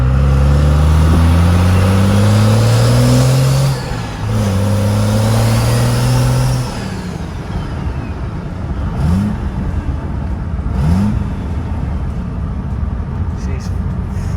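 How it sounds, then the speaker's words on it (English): Lifted crew cab diesel truck driving with its turbos spooling up, a loud engine rising in pitch through several pulls, then a steady drone with faint whistling whooshes. "So you guys listen to these turbos spool up."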